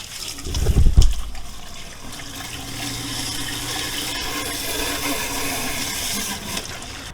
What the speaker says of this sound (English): Now I'm going to hose off the cell.